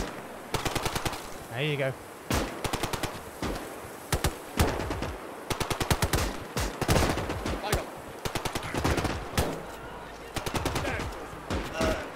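Rapid automatic gunfire in the World War II shooter OstFront, Talvisota winter war setting, comes in repeated loud bursts and single shots across the whole stretch, with a voice talking briefly between volleys.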